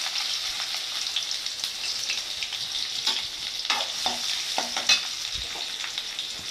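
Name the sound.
chopped onions frying with fenugreek in oil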